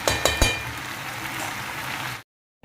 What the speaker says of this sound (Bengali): মিডিয়াম ফ্লেভারে দিয়ে একটু এটাকে আস্তে আস্তে কষাই